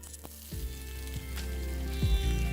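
Onions going into hot mustard oil with cumin seeds, bursting into a loud, close sizzle that rises and holds steady, with a few clatters of the pan at the start.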